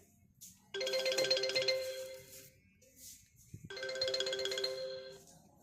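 A phone ringtone plays twice in bright, melodic bursts of about two seconds each, separated by a short quiet gap, fairly near.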